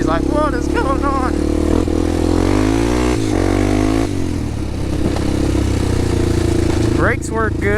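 Honda 400EX ATV engine revving close by, a loud rough growl rising and falling in pitch through several throttle blips, with people talking over it.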